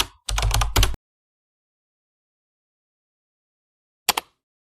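Keys tapped on a computer keyboard while entering a search into a browser's search bar: a quick close burst of clicks lasting under a second, long silence, then a second brief flurry of taps.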